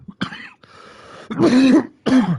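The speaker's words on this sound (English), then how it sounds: "have a little cough" A single man gives a short throat-clearing cough, close and loud, with a few voiced, rough bursts in quick succession.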